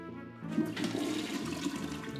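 A cartoonish toilet flush from Luigi's Mansion 3, a sudden rushing swirl of water that starts abruptly and churns steadily to the end, loud and close with no talking.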